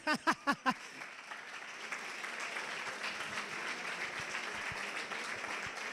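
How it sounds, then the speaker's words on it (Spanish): Four loud, sharp claps or beats open, followed by a steady wash of audience applause at a PechaKucha Night event in Salamanca, continuing evenly at moderate level. "otro aplauso más fuerte para la performance happening"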